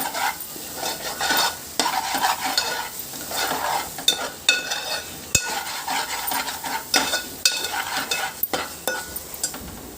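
Drumstick and tomato curry frying in an uncovered pan, stirred steadily with a spoon scraping and clinking against the metal while oil sizzles underneath; close, continuous and without voices.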